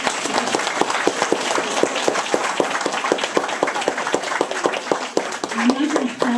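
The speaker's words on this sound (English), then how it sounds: "can I have a round of applause for everybody" An audience at a women's event launch claps steadily and densely throughout, a sustained round of applause with a brief voice rising near the end.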